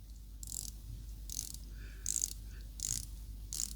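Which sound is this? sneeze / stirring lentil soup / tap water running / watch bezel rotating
watch bezel rotating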